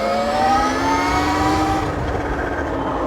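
A BRZ Racoon Pro 84V 21kW electric motorbike pulling hard in second gear, a rising electric whine climbing steadily in pitch over road and wind noise, close and loud, easing off near the end.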